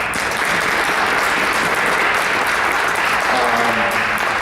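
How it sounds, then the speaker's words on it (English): An audience at a Belleville board of education meeting claps continuously, a dense, loud wash of many hands that holds steady throughout. "Will you clap?"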